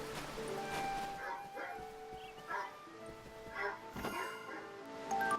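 A dog in the video game Eternal Sonata gives a few short yappy barks and whimpers over soft background music.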